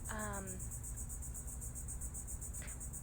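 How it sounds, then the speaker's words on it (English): Steady, dense cricket chirping fills the background, a continuous high pulsing trill, fairly faint and unbroken throughout. "I hope those crickets in the background aren't too crazy noisy."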